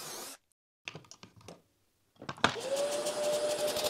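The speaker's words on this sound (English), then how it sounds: "the drill in reverse, you'll have much less tear out" A power drill bores holes in plywood for furniture: short bursts of motor whir and bit contact, a pause, then a sustained, loud drilling whine that continues to the end.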